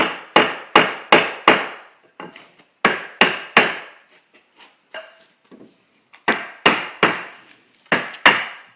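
Sharp, loud wooden knocks from a hammer striking a wooden panel during bedroom construction, delivered in rapid bursts of three or four blows with short pauses between and a few fainter taps mixed in.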